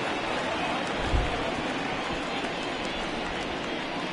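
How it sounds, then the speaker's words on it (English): Heavy rain pours steadily over a Diamondbacks at Cubs baseball game, a dense, continuous hiss filling the air without letup, with a faint low thump partway through. "that rain is really coming down right now"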